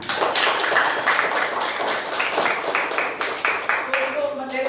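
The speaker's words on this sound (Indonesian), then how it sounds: "Tepuk tangan semuanya." A classroom of students claps in a quick, rhythmic burst of light hand taps, fairly close and steady, with voices talking over the clapping throughout.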